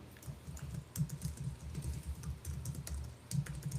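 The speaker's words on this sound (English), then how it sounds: "you guys can hear me clicking away because I did not silence it" Rapid, steady clicking of keys on a computer keyboard, close by, with continuous typing and small bursts throughout, no voices.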